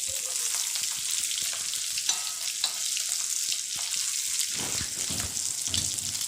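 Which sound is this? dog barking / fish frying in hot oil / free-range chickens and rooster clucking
fish frying in hot oil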